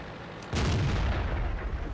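A single heavy tank cannon shot in World of Tanks, a sudden loud boom after a brief quiet, rumbling and decaying over the following second and a half.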